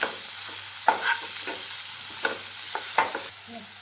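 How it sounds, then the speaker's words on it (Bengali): Chopped onion frying in a pan on high heat for chicken spring rolls, a loud continuous sizzle broken by repeated spatula stirs and clinks, with no one talking. "এখন আমি এর মধ্যে ছেড়ে দিচ্ছি পেঁয়াজ কুচি।"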